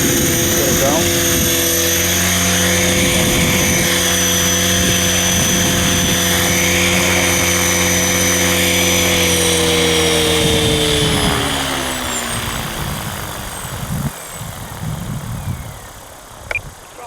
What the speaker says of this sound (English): a nervy helicopter maiden flight